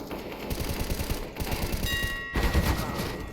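AK rifle fire in Counter-Strike, a rapid run of close, punchy shots in bursts with brief gaps and no voices.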